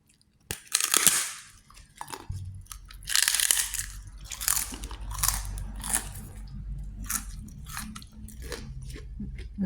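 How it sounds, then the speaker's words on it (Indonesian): Crisp crunching and biting of Indonesian mackerel fish crackers (kerupuk ikan tenggiri) eaten alongside sour-spicy patin fish, with repeated close, loud crunches in an irregular chewing rhythm. "Ini kita makannya pakai kerupuk ikan. Ini kerupuk ikan tenggiri ya."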